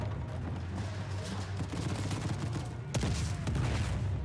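Gunfire in the video game Uncharted 4, a dense rattling volley of rapid shots with booms, loud and continuous, with a sharper burst near the end.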